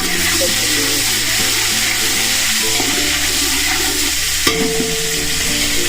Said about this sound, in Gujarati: અને આદુ મરચાની પેસ્ટ છે એ નાખું છું.